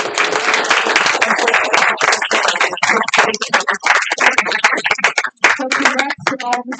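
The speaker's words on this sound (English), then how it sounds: "Another round of applause for all of our award winners." Loud applause from a crowd at a student award ceremony fills the room while a voice talks over the clapping throughout.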